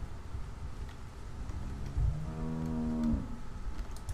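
A cow in The Walking Dead video game gives one drawn-out, wavering moo lasting about a second, loud and close, over a steady low background rumble.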